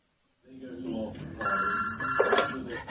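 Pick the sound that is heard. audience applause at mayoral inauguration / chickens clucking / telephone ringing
telephone ringing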